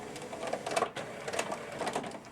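Inkjet-style printer running off a comic page, a steady mechanical whir with rhythmic carriage sweeps and clicks, close and moderately loud with no voices.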